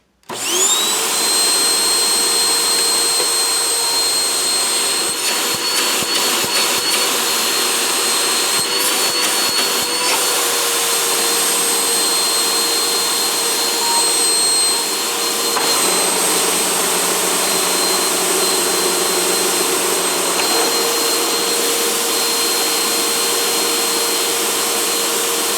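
A Hoover WindTunnel UH70200 bagless vacuum cleaner running on a bench test after cleaning, a loud steady high-pitched motor whine and airflow roar that starts abruptly and holds throughout, with slight shifts in tone.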